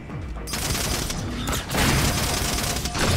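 Rapid fire from the Needler weapon in the Halo 4 video game, a dense, loud, continuous volley of shots packed together with battle noise and no pause between rounds.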